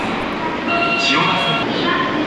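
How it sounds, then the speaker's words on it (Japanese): A Tokyo Metro Hanzomon Line train pulls into an underground station platform, its rumble and rising whine close by, with tonal motor sounds and a voice talking over the noise. "ホームには半蔵門線の電車が入線してきました。"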